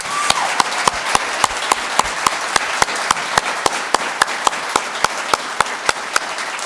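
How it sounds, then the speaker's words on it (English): Applause from the audience at a student leadership awards ceremony, a steady bed of many hands clapping, topped by one close, loud pair of hands striking in a regular, even beat. "Please give these organizations a strong round of applause."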